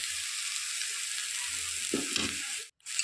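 Brinjal and gima greens, seasoned with salt, turmeric and chili powder, fry in a pan with a steady close sizzle while a spatula stirs through them in a few scraping bursts near the end. No voices.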